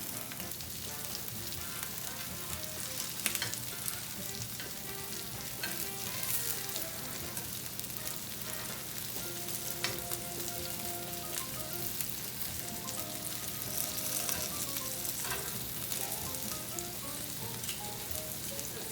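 Tandoori meatballs fry in a skillet with a steady, dense sizzle and crackle that holds even and close throughout, with no talking.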